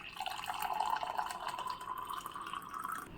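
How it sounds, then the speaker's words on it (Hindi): Hot water pours into a glass with a continuous trickling, splashing fill that stays fairly steady and close for a few seconds, with no talking heard. "इस ग्लास में हम ऐड करेंगे गर्म पानी"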